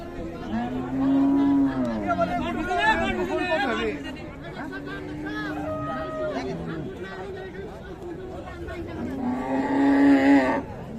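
Cows lowing at the Raniganj cattle market in Dinajpur, where Friesian cows with calves are for sale; a few drawn-out moos, one near the start and one near the end, sound over steady crowd chatter.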